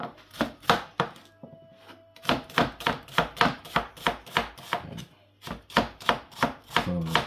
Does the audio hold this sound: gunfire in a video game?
no